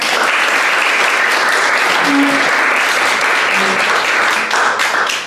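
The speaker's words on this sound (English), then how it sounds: "Let's give him another round of applause for what he said." An audience applauds steadily at an interfaith youth gathering, a dense, sustained wash of clapping that holds loud throughout and eases slightly at the end.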